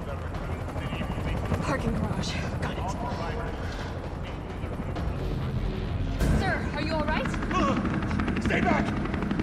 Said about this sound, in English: There's a helicopter waiting to take you to safety.